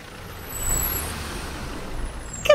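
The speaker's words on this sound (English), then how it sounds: "We need a car, which is called a boom truck." Cartoon boom truck engine rumbling and swelling, then a sharp hiss of air brakes at the end, heard alone with no talk.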